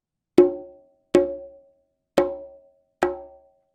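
Four ringing open tones struck one after another on a conga drum at an even pace, each bright and resonant, decaying quickly into silence.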